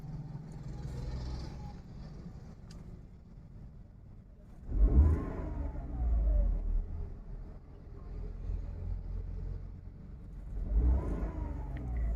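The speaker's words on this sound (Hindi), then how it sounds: "तो एक बार पेट्रोल पे ही गाड़ी को रेव करके देखेंगे कि कितना क्या जो साउंड है कैबिन नॉइज है" Tata Tiago petrol engine heard from inside the cabin, settling near idle before revving up sharply twice, each surge climbing then falling back, with low cabin hum between.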